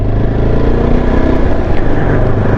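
A Yezdi Adventure motorcycle crawls along in first gear without throttle, its engine putting out a loud, steady low rumble close by with no voices.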